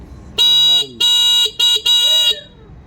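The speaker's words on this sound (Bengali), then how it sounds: "হর্নটা কিন্তু অনেক সুন্দর" An electric tricycle's electronic horn sounds four times, the first two beeps longer and the last two shorter, loud and close with a bright, buzzy tone.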